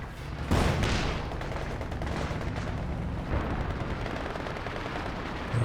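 Company of Heroes 2 battle with machine gun fire, a continuous dense rattle of automatic shots and heavy impacts, a sharp loud burst early and another thump midway, steady and close throughout.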